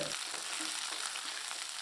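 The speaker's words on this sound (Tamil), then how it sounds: "இதை சேர்த்து நல்லா வதக்கி விட்டுக்கலாம்" Onion and green chili sizzle steadily in a hot pan as they are sautéed, with soft stirring sounds, close and continuous, no voices.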